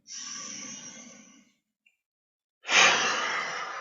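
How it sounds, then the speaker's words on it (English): A qigong breathing exercise demonstrating paradoxical breathing: a long, soft breathy exhale, a brief silent pause, then a strong, loud rushing breath that continues to the end, close and alone without talk. "Sometimes the normal breathing gets stuck this way, and they call it paradoxical breathing."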